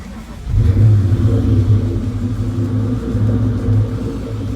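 A 1996 Ford Mustang Cobra with a T45 manual gearbox and aftermarket exhaust catches and settles into a loud, deep, rumbling idle. The engine note throbs close by with a slight surge.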